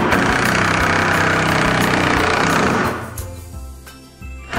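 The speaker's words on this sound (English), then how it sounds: "we get to make all kinds of cool holes and drill in all kinds of different" A power drill runs continuously for a few seconds with a loud, buzzing motor whine, then winds down into quieter intermittent rattling and a brief restart.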